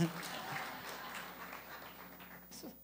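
Congregation clapping at a Sunday church service, softer and thinning out, with voices mixed in under the applause and a brief louder burst near the end.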